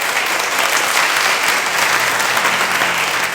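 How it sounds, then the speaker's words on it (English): Audience applause fills a hall at the close of a talk on Quaker families and equal rights, a steady, dense clapping from many hands, loud and close, with no speech over it. "Let's give one more round of applause."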